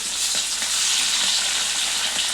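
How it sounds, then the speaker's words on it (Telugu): Pieces of egg fry in hot oil in a pan for a Telugu egg pickle, giving a dense, even, close sizzle with faint crackles and light stirring taps throughout. "కొంచెం మీడియం ఫ్లేమ్ పెట్టుకుంటే లోపల వరకు వేగుతుంది"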